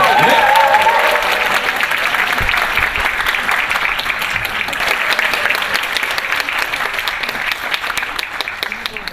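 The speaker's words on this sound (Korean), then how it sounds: "오늘 여러분 큰 박수 함성으로 맞이해 주시기 바랍니다" A Korean hair-industry seminar audience applauds and cheers as a salon director is introduced on stage, with loud, dense clapping that starts strong and holds steady, a few shouts mixed in early before it evens into a continuous roar.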